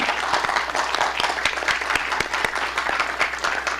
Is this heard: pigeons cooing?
no